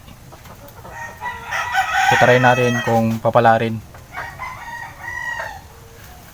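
A rooster crows loudly in one long harmonic call, with hens clucking nearby and someone talking over the start and end.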